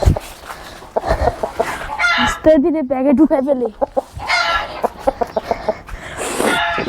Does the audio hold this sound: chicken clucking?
yes